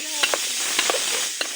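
Potatoes frying in a home pan give a steady, soft sizzle with faint crackles and a few light clicks, heard up close at low volume.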